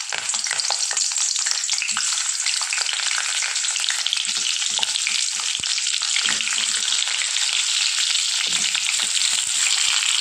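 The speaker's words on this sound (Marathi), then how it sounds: "तेल आपलं छान गरम झालेलं आहे आता यामध्ये आपण जे भरलेले टमॅटो होते ते आपल्याला सोडायचे आहे" Stuffed green tomatoes fry in hot oil in a wok, giving a loud, dense, steady sizzle that runs the whole time with occasional small crackles and pops, close up and with no talking.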